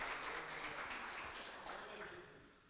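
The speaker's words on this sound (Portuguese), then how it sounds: "Aplauda o Senhor." Congregation in a church applauding during a sermon, a dense, moderately distant wash of clapping that fades gradually over a few seconds.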